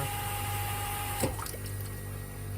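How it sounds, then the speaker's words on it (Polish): A steady low mechanical hum from an ice maker with a brief clunk midway, followed by soft trickling as water begins refilling it. "i następuje ponowne nalewanie wody."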